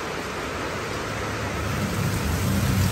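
Heavy rain pours steadily and loudly, with a low rumble swelling underneath toward the end like distant thunder; no one speaks.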